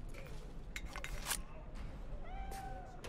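A cat meowing in the video game Cyberpunk 2077, a couple of short mews over soft game ambience with a few light clinks.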